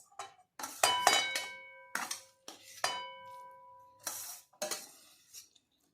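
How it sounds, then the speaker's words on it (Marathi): A metal spoon clinks and scrapes inside an aluminium kadhai as cooked puran filling for puranpoli is tipped in. Several sharp ringing clanks and a softer scrape sound close by, with no talking. "आपण एक जर्मनची कढई घेणार आहोत आणि त्याच्यामध्ये हे पुरण टाकून देणार आहोत"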